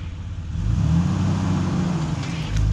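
An off-road vehicle in the Australian bush accelerates, its engine rising into a loud, steady low rumble that holds for a few seconds close by.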